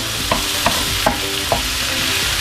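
Ginger goes into a pan of ginataang kalabasa, squash cooking in coconut milk, with a soft continuous sizzle and four evenly spaced scrapes and clinks of a utensil stirring against the pan.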